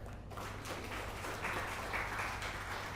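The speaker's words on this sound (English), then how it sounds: "a huge applause for the panel here" Applause for a panel at an innovation accelerator event, heard as a soft, distant wash of many hands clapping in a hall, continuous and fairly faint.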